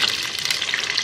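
Chicken pieces go into hot oil with cloves, setting off a loud, dense, continuous sizzle that stays close and unbroken for about a second.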